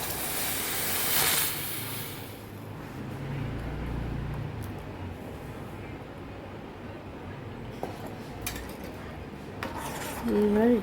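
A mango and mint paste is stirred in a wok, giving a continuous scraping and rubbing of the spatula against the metal pan, with occasional clinks and a brief louder scrape near the end.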